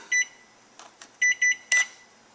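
A series of short electronic beeps, several spaced in quick succession, as an oven timer is set for 20 minutes; quiet otherwise.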